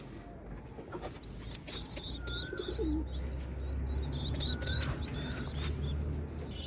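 Domestic pigeons and their chicks in a home loft coo and chirp repeatedly, soft calls and high squeaks overlapping near the listener against a low steady hum.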